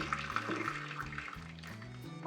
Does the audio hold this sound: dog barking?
no